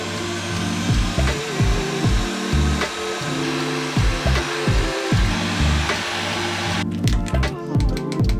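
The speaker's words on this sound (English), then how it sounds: "So we're going to melt the tops at the moment." A heat tool blows steadily to melt the tops of handmade candles dusted with mica powder, a loud continuous rushing whoosh with small bumps and shifts as it is moved.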